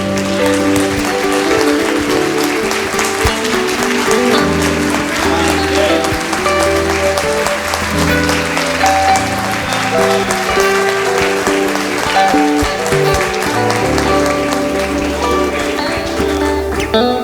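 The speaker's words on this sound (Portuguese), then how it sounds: "Você pode aplaudir ao Senhor." Church congregation applauding the Lord, a dense steady patter of clapping lasting throughout, mixed with sustained worship music.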